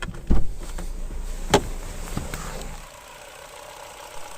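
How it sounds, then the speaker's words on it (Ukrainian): A Ford Focus engine idles with a low, steady rumble, a few clicks and knocks early on, then settles into a quieter hum. "Зараз продемонструю, як працює двигун."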